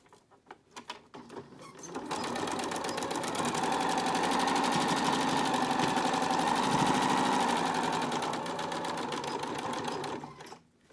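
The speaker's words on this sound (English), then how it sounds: "The next step is to top stitch the top and bottom of your mask." A sewing machine runs steadily for about eight seconds, top stitching the top and bottom edges of a fabric face mask, with a few brief handling noises at the start before the motor settles into an even whir.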